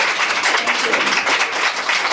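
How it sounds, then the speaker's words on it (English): Audience applause at the Sacramento Women's Conference 2024, a steady wash of many hands clapping together that stays fairly loud and even for about two seconds, with no clear speech over it. "I think you deserve this applause."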